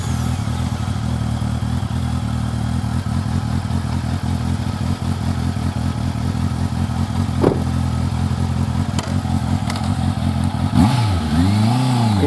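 A motorcycle engine runs steadily during straight-line braking practice with cones, holding a loud close drone before revving up sharply near the end as it picks up speed, with no talk.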